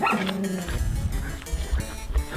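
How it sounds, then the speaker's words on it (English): Zombie dogs in a Resident Evil game yip and bark in a dense, loud burst, layered with heavy low rumble and other game or music noise throughout. "like Resident Evil dogs. They're like fucking 20 of them locked up in some cage."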